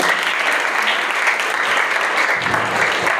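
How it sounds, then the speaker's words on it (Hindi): Sustained, dense audience applause fills a school farewell hall, loud and steady from start to finish with no talk over it. "मैं फिर से एक बार कहूंगा कि उनकी तालियां हो जाए।"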